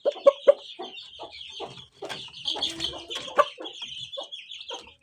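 Chickens cluck in short, bursty calls, several birds close by with repeated sharp clucks over a steady background chatter of other fowl, no talking.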